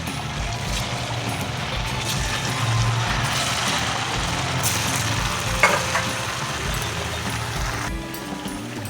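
Flattened-rice rasabora frying in hot oil, a steady dense sizzle that holds loud and close throughout, with a few faint clinks partway through and no talk.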